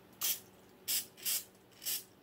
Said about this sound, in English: Get your spray and spray the inside of your cup.